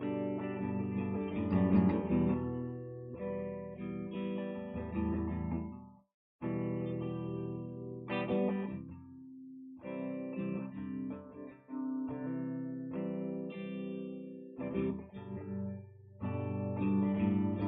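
An electric guitar in drop D tuning rings through effects pedals, playing sustained chords and melodic lines with a brief pause in the middle, loud and continuous with no talking.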